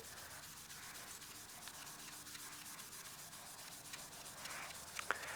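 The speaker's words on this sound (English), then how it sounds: "let's sand with the lathe off. We'll sand laterally here." Steady, faint rubbing of 1500 grit abrasive worked by hand across an acrylic blank with a CA finish, the lathe stopped, a continuous soft scuffing with no talk.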